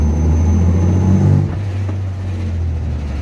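Chevrolet Opala six-cylinder engine fitted with a Weber 40 carburetor and running on alcohol, giving a steady, smooth low idle drone that stays constant and fairly loud throughout with no talk over it.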